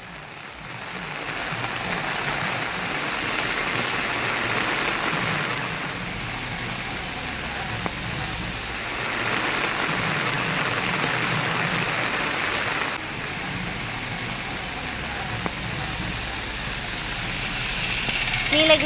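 Steady broadband rain hiss with a slight swell and dip across the whole stretch, falling on a surface in a Tamil Nadu district, continuous and fairly loud with no voices.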